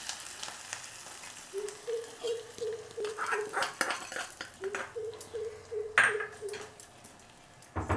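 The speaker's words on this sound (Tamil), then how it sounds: "தாளிச்சதை இதில் கொட்டிடலாம்." Hot tempering is poured into a bowl of curd rice and stirred in, giving bright metallic pings and clinks of a spoon against the vessel at an even, moderate level, with a soft sustained tone running through.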